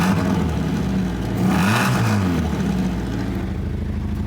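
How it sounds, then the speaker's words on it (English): A 1975 Toyota Corolla KE35 idles with a blown exhaust, giving a steady, close, rough engine drone with a slight rise in revs midway through and no talking. "You hear the blow, the exhaust blowing."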